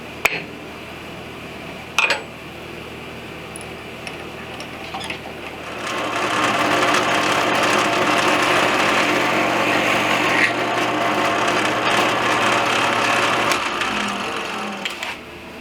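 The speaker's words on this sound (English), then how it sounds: "once I drill all the holes" After a few quiet knocks, a power drill whirs steadily into wood for several seconds while boring holes for a thin strip ripping jig, with a rough grinding texture, then winds down.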